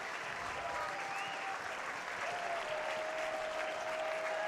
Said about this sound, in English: Crowd coming alive like they have a couple of times.